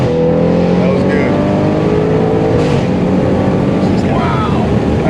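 An Audi RS7 fitted with a loud FI exhaust accelerates hard, its engine rising through the revs with a raspy, booming roar up close, a quick shift break and continued pull, voices faintly present.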